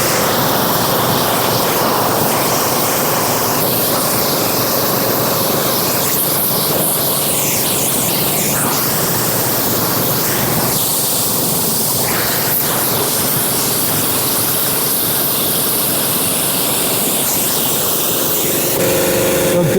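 A pressure washer at 200 bar rinses out a chicken coop with a loud, steady hiss of spray that stays constant throughout, shifting slightly in tone as the jet moves across surfaces.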